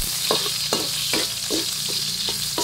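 Garlic sautéing in a pan gives a steady close sizzle, with repeated scraping strokes of a utensil stirring through it at an uneven pace; no voices.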